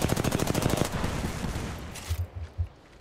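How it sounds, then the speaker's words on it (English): Rapid automatic gunfire fills an Apex Legends firefight, a dense loud burst at first, then thinning into scattered heavier shots and thumps toward the end, with no voices. "The enemies are shooting at me."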